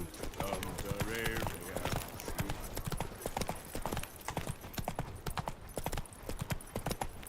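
Roach, the horse in The Witcher 3, trots with quick, rhythmic hoof clip-clops close by, running steadily beneath voices speaking over it.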